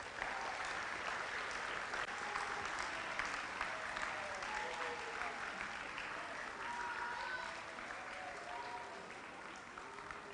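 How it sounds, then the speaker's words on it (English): An audience claps in a sustained round of applause that holds steady for about ten seconds, dense and even with no voices standing out. "Can we have a round of applause, everyone?"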